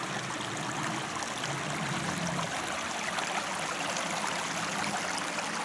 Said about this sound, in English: So this looks like a little ford at the River Breamish.